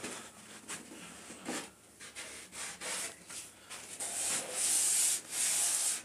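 Cutting out a section of a car audio build for a Skar Audio system upgrade: a series of harsh rasping, grinding strokes, close and fairly steady, that grow louder and brighter toward the end.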